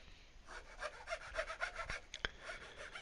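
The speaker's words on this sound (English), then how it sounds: "Use the flat side of the file again, up to the corner, and then file off those excess material there from the drill out I did earlier." A hand file rasps at window frame holes in a model keep, a quiet run of evenly spaced strokes with one sharp click partway through.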